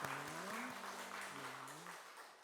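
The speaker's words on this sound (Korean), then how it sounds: "큰 축복의 박수 보내겠습니다." A church congregation at a Sunday worship service gives a soft round of applause of blessing, a quiet spread of clapping under a sustained organ or keyboard chord that fades out.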